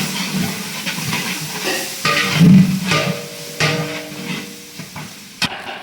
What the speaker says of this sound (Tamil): அந்த டைமில் இஞ்சி போட்டு பேஸ்ட் சேர்த்துக்கிறேன் ரெண்டு நிமிஷம் போல் நல்லா வதக்கி விடணும்